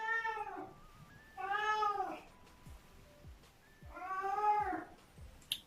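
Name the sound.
cat meowing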